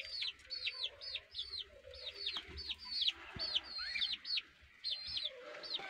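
Caged budgerigars chirp in quick, repeated bursts of bright, warbling calls. The calls come close but fairly quietly, clustered in rapid runs with brief pauses between them and a faint low background hum.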